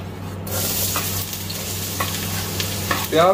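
Two chopped medium onions drop into two to three tablespoons of hot ghee in a wok and burst into a loud, steady sizzle that carries on close up with faint stirring scrapes, under a low electrical hum and no talk.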